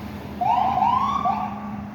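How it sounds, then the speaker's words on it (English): An ambulance siren wails as the vehicle pulls out, leaving the scene of a police response to shots fired on Cummins Highway in Boston, with a rising and falling tone sweep, fairly clear over a low steady engine hum. "There's one ambulance leaving now."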